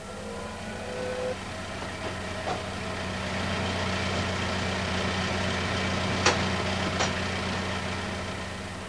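Heavy airport baggage container loader machinery at Heathrow runs with a steady low diesel drone and idle, with a couple of sharp clanks partway through; no voices.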